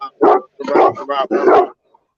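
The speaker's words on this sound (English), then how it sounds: "I want to say bye to the dog." A dog gives four close, loud barks in quick succession, then falls silent.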